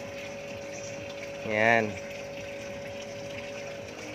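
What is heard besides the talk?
water pump delivering water for roof shower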